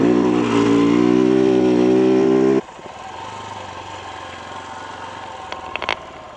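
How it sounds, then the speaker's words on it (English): A KTM 690 dirt bike rides along a beach in Hawaii at sunset, its engine droning loud and steady at first, then dropping abruptly to a lower, quieter running note with a few brief knocks near the end. "Just riding a dirt bike on the beach in Hawaii during sunset."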